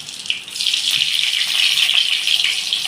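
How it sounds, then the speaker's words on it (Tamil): Mustard seeds hit hot oil in a kadai and set off a loud, continuous hissing sizzle close up, steady for the whole few seconds with no voices. "இப்போ கடுகு போட்டுக்கிறோம்."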